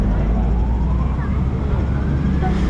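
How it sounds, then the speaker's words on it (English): Ambulance siren on a Macau street, a wailing tone rising and falling under loud traffic and street noise, fairly near and continuous. "Another ambulance, wow."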